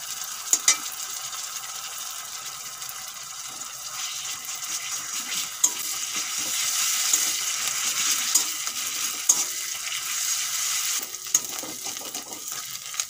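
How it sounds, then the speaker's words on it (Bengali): Ginger garlic paste fries with browned onions in hot oil, a continuous close sizzle broken by occasional spatula scrapes and knocks against the pan, no voices. "এখন আদা রসুন বাটা দিয়ে দেব"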